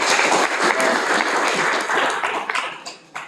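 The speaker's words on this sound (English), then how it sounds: "We will give big applause to Professor Alexander." An audience at a university guest lecture in theology gives a professor warm applause, a full burst of clapping that holds for a few seconds, then thins out into scattered final claps.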